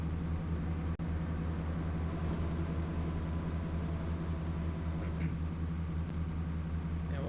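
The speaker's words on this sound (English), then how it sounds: "Hopefully the bulldozer's not too loud for you guys." Bulldozer in the Farming Simulator 25 game, a steady low engine drone running throughout at moderate volume, unbroken apart from one tiny click.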